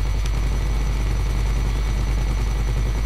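A helicopter in Grand Theft Auto Five gives a loud, continuous low rotor and engine drone that holds steady throughout, with no voices over it.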